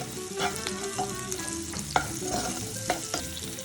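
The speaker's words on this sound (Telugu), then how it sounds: "ఇప్పుడు నూనెలో పచ్చిమిర్చి వేసుకోవాలి." Green chilies frying in hot oil with salt, a close, steady crackling sizzle broken by occasional sharp pops and light stirring clinks, no voices.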